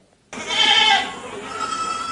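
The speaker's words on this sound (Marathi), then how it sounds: "अत्याधुनिक पद्धतीने बांधलेलं हे शेळ्यांचं शेड, शेळी, बोकड आणि पिलांसाठी असलेले स्वतंत्र कप्पे" Goats bleating inside a modern goat-farming shed with separate pens for does, bucks and kids; one clear, fairly loud bleat rises after a short silence and fades into a low, continuous murmur of farm background.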